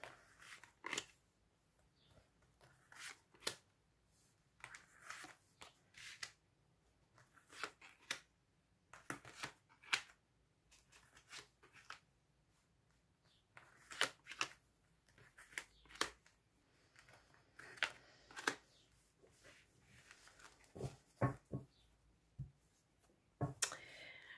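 Tarot cards shuffled by hand for a reading on a hot day, producing repeated short riffling and slapping bursts of card noise at an irregular rhythm, close and fairly quiet, with no talk over them.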